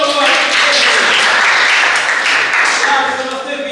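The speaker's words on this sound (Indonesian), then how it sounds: "Tepuk tangan dulu buat" Classroom applause from students at a vocational high school lesson, loud continuous clapping filling the whole moment, close and dense without talk.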